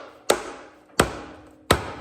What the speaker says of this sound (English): I'm hitting the giant sump section on this side with a hammer.